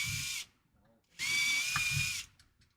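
A power drill fitted with brand-new bits bores 3.2 holes, whirring loudly in two bursts separated by a short pause, a close, steady high whine with some rumble beneath.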